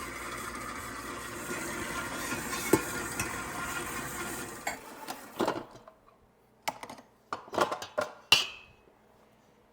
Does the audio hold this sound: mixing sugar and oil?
yes